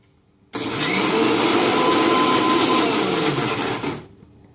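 A mixer grinder whirs loudly and steadily for about three and a half seconds, grinding a batter with a little water, starting abruptly and winding down at the end.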